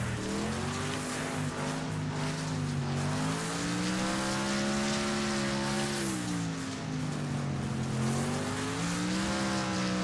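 Race cars in the video game Wreckfest roar continuously through an outlaw-class race, several engines droning and rising and falling in pitch together, with faint tire squeal mixed in and no talk.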